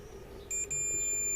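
A multimeter continuity tester beeps during repair of a Nordmende Galaxy Mesa 7000 radio, giving a steady, fairly loud electronic tone that starts partway through, briefly dips, then holds to the end over low hum.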